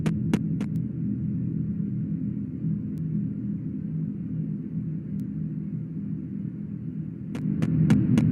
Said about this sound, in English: an eerie ambient noise begins playing in the background, getting louder and louder